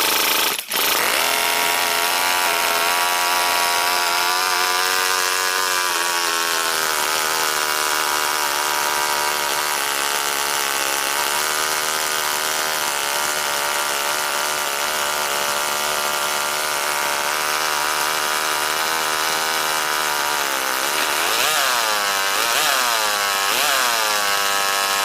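A twin-cylinder 22,000 RPM four-stroke NR200 engine fires up on first start-up with a sharp crack, then settles into a loud, steady, buzzing high-pitched idle, its pitch rising and falling in quick revs toward the end.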